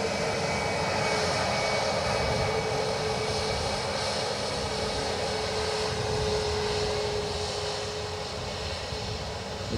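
An American Airlines Boeing 787 Dreamliner from Chicago moves at Dublin Airport with a loud, steady jet engine roar and rumble that holds evenly throughout, with no voices.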